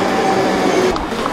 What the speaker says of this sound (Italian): Secondo voi quello che cos'è? È la nostra metropolitana?